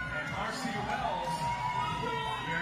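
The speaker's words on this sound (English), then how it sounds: "Hometown crowd." A hometown crowd at a fitness competition cheers and whoops steadily throughout, a dense wash of voices that stays fairly loud from start to finish.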